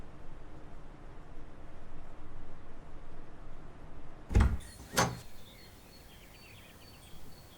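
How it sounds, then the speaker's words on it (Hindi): A house door being opened: two sharp, close knocks and thumps of the latch and door about a second apart, after a quiet stretch of room noise, with no speech. "मैं दरवाजा खोलती हूँ।"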